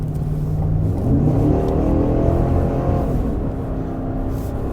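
A 2022 Cadillac Escalade's V8 pulls away under acceleration, a loud, steady mid-range roar with rising engine tone, heard from inside or close by with no talking.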